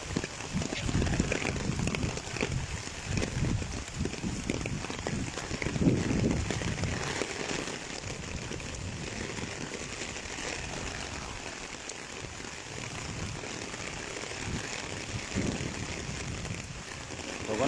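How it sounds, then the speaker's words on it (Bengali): Heavy rain pours beside the Gomti river in Cumilla, a dense, continuous hiss of drops striking surfaces that holds steady and fairly loud throughout, with no voices. "অনেক বৃষ্টি শুরু হয়েছে।"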